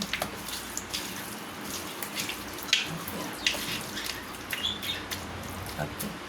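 Water runs and splashes into a pot for mutton curry, an uneven pouring sound with small clinks, fairly close, no one talking.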